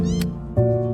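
A stray cat meows loudly in an alley, with a drawn-out call and a second, stronger cry after a short gap, close and clear.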